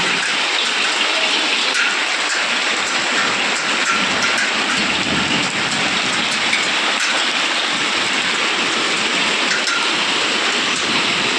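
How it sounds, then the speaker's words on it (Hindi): Hailstones pour down during a violent storm in India, a dense, steady hiss and rattle of impacts filling the air, loud and continuous with no gaps or voices. "ऐसे ओले गिर रहे हैं, इतने ओले गिर रहे हैं"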